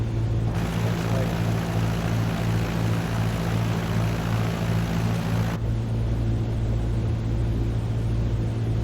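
A propeller airplane drones continuously in Microsoft Flight Simulator 2020 over Kuala Lumpur, a loud steady engine and prop hum with a slight tonal shift partway through.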